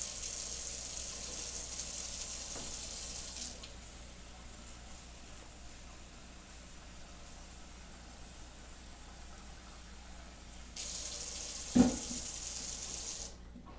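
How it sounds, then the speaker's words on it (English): Cold tap water runs steadily into a pot to rinse rice for Persian rice, a continuous close hiss that pauses midway and then resumes. "Then what we need to do is actually wash and rinse the rice with some water."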